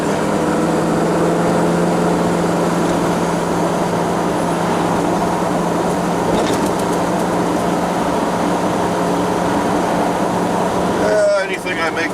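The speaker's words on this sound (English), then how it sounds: "roll onto that throttle, open up the secondaries, creep on up to speed" A vehicle engine runs under steady throttle while rolling downhill and creeping up to speed, a loud continuous drone with a low hum throughout, ending in an abrupt clunk and rattle.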